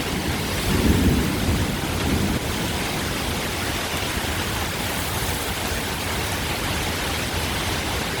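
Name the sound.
torrential sideways rain storm with thunder in Sydney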